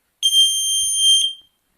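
A single loud, piercing tone from a 12-volt electronic buzzer sounds steadily for about a second, then cuts off abruptly, leaving silence.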